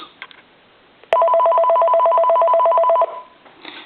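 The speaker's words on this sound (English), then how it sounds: "I'm going to go ahead and ring it." A hand-carved wooden dragon telephone sounds one loud, continuous electronic ring lasting about two seconds, steady and close, after a sharp click and some faint handling noise.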